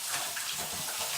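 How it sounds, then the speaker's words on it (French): Hot water runs steadily from a kitchen tap in a continuous, close, fairly loud stream with no voices over it. "L'eau chaude."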